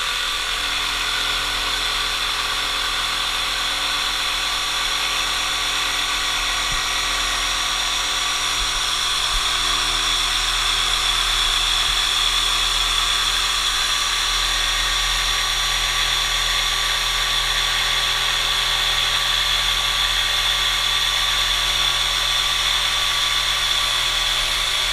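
A Bosch GST 18 cordless jigsaw cuts steadily along a scribe line, a continuous high whining buzz with a rattling blade chatter that holds level and loud for the whole stretch, with no talk over it.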